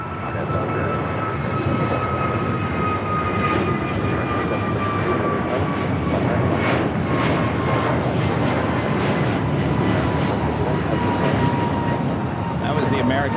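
American Airlines jet taking off at LAX on a flight to Miami, a loud broad engine roar with a slowly falling whine, sustained and near throughout.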